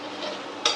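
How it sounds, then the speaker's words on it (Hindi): Spice paste frying in oil while making a potato and pointed gourd curry, a steady soft sizzle with light stirring, then a brief sharper hiss near the end. "अब ये मसाला भूंज लो अच्छी तरह से"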